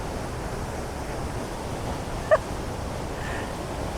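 A powerful waterfall in Wales roars as a steady, dense broadband rush, constant and unbroken throughout, with one brief faint knock partway through.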